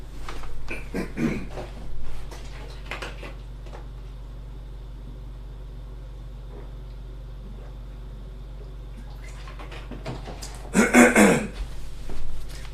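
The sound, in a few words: coughing and throat clearing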